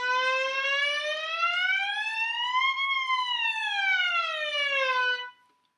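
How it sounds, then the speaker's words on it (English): A violin glissando slides smoothly upward in pitch, then glides back down, sustained and alone before cutting off. "Glissando means continuous slide upward or downward between two notes."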